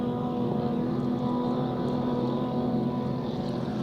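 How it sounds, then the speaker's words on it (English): A steady, loud engine drone of four vintage racing boats from the 1950s and 60s running side by side, continuous with no break or pause throughout. "Look at all four of those boats side by side."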